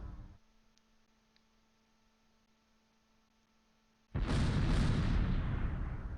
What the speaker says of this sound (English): Good mortars.